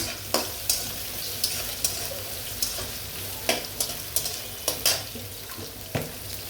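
Steady sizzling of onions frying in oil, with repeated soft clinks and scrapes of a spoon stirring the pan.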